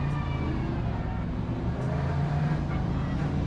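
Race cars in the sim racing game Le Mans Ultimate drone steadily near the start of a race, a continuous engine hum with no clear breaks.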